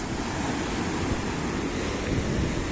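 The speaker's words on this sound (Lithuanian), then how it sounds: "Vandenynas." Ocean waves roll onto a Sri Lankan shore in a steady, continuous wash of surf mixed with wind buffeting the microphone, no talking.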